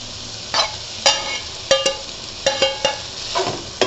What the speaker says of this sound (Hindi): अभी हम इसमें मिक्स करेंगे हमारा ये स्क्रम्बल किया हुआ एग